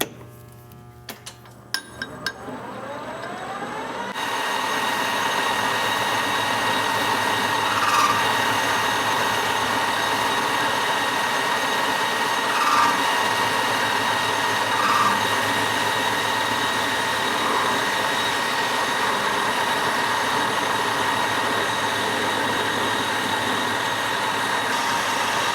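A machine runs while the end of a metal workpiece is faced. A few clicks and a rising whir lead into a loud, steady mechanical hum and whine that holds evenly with slight swells.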